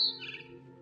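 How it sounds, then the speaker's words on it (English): A barn swallow in the video game What Remains of Edith Finch gives a single short, bright chirp outside a window, followed by a fading tonal hum. "Then I heard chirping outside my window. It was a barn swallow going back to her nest."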